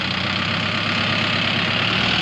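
A Mahindra Novo 655 DI 4WD tractor engine idles with a steady, even diesel drone, close and unbroken, while its hydraulic lift fails to raise; no voices.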